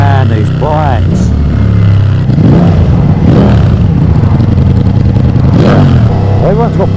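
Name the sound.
Ducati Diavel V4 with Akrapovic exhaust riding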